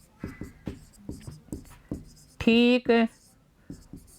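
Chalk or marker tapping and scratching on a classroom board in a rhythmic series of short strokes, with a brief spoken word from the teacher partway through.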